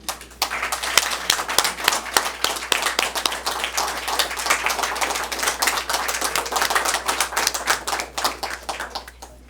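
Dense, steady applause from a lecture-hall audience welcoming a former North Korean diplomat onto the stage, rapid overlapping claps sustained at even loudness throughout with a low hum beneath.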